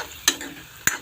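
Capsicum, carrot and onion stir-fried in a pan for chow mein: two quick, sharp scrapes of tossing over a low, continuous sizzle.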